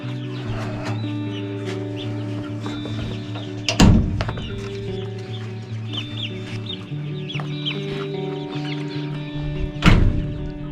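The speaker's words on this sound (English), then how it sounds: "These chicks are Golden Comet, Red Sex Link." Golden Comet and Red Sex Link chicks in a brooder, giving soft, steady clucks and chirps with a couple of louder, sharper calls, over a continuous low mechanical hum.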